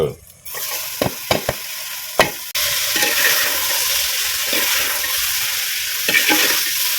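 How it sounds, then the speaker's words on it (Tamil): Drumstick leaves are sautéed in oil in a clay pot over a wood-fired stove, with a few sharp stirring knocks, then a loud steady sizzle and occasional scrapes, close up and with no talk. "அதனால எண்ணெயில போட்டு வதக்கி கீரை போட்டுக்கலாம்."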